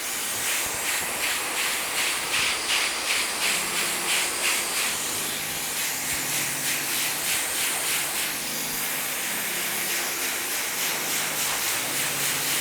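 A hair dryer at high power and low heat blows through a focal-point nozzle during a skin fade haircut, a steady loud rushing hiss with a faint pulsing flutter as it moves, no talk.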